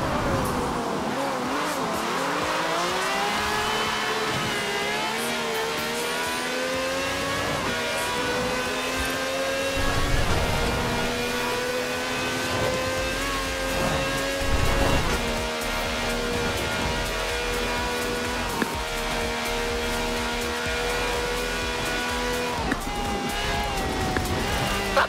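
A car in the racing game Forza Horizon 4 accelerates hard, its engine note climbing steadily in pitch through long gear pulls, loud and continuous with a few brief bumps.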